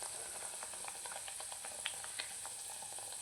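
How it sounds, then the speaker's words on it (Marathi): Besan modak puris fry in hot ghee in a kadhai, a faint, steady sizzle dotted with light crackles and pops, with no talking. "सर्व पुऱ्या आपल्याला तुपातच तळायच्या आहेत"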